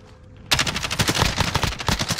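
Loud, rapid automatic gunfire erupts after a brief quiet moment, firing at zombies in a Call of Duty zombies match, a dense nonstop burst up close.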